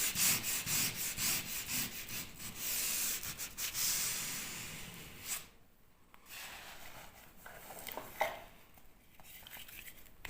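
Hand sanding of dried filler over a crack in a new ceiling: brisk, rhythmic scratchy strokes up close for several seconds, then slower, quieter rubbing with a few light knocks.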